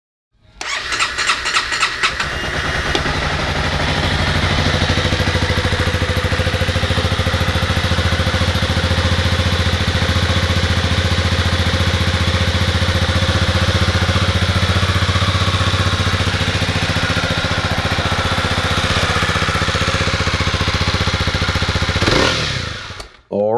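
A 2019 Honda CB300R motorcycle cranks with a brief starter whir, catches and settles into a steady, loud, close idle that runs unbroken for about twenty seconds before cutting off.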